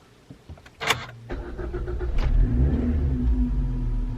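A car that has sat unused for ten weeks cranks and starts, a few clicks and a brief whirring crank giving way to a steady, close engine idle.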